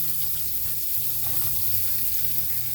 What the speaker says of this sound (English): With 2 tablespoons of melted butter, guys, I'm gonna add the onion and the shallot.